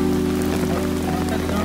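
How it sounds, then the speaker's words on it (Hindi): Rain from a low-pressure system falling in a village, with some wind, forms a steady, dense hiss that stays loud and unbroken throughout, alongside a constant low hum. "वर्षा हो छि"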